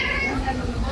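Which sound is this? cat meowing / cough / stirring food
cat meowing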